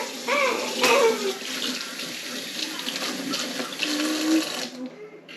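Cold water running steadily from a kitchen tap into a sink during holiday cooking, a close, loud rushing flow with splashy variations that cuts off near the end.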